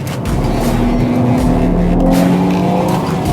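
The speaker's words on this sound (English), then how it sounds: "Now we're driving out of the corner with slight oversteer." A race car accelerates out of the Fuchsröhre corner on a race track with slight oversteer, its engine droning loud and steady with rising tone and a faint tire squeal, no talking.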